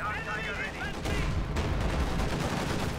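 Battlefield explosions and gunfire from the World War II strategy game Company of Heroes 2, with tank combat, come as a dense, continuous rumble of shots and blasts, loud and steady throughout.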